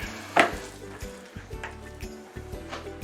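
A whisk mashes cooked real pumpkin in a bowl, giving soft, squelching, rhythmic strokes with occasional clinks against the bowl, close by and fairly quiet.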